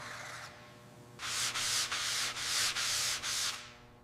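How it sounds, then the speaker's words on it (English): Rhythmic back-and-forth sanding strokes on a repaired MG car body panel, about six close, loud gritty passes in steady succession with brief pauses between. "Now I'm smoothing the repaired areas before sanding."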